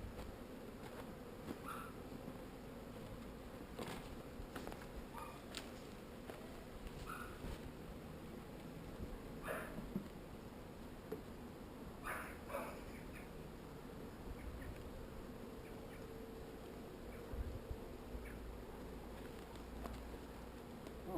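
Honeybees buzzing steadily around an open hive at close range, a continuous hum with occasional louder passes of individual bees, no speech.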